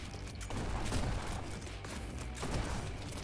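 Rapid, loud gunfire in the first-person game Neon White, dense overlapping shots and impacts forming a continuous barrage with no talking.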